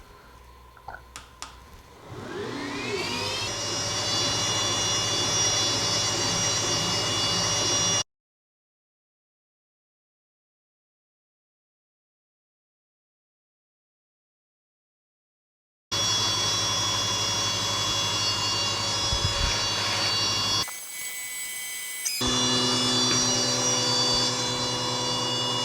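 A WeCreat Vision 20 watt laser engraver engraving and cutting, a steady loud mechanical drone and whine with fan noise, broken by a silent gap and a short change in tone near the end.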